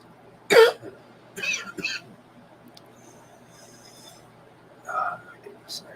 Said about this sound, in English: I'm a little bit under the weather, so I keep coughing